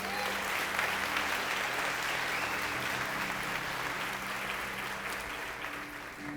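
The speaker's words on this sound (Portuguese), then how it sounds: "Você pode aplaudir Jesus?" A church congregation applauds for Jesus during a sermon, a sustained wash of many hands clapping, even and moderately distant, with no one speaking over it.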